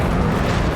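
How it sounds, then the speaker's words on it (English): A video game explosion in Just Cause 3 bursts as a loud, dense roar that fills the whole short moment without fading. "Massive explosions and fire and death."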